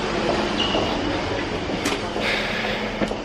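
Train noise on platform 5 at Charing Cross station in London, a steady broad rumble of a waiting or moving train with faint metallic squeals and brief clanks, no talk.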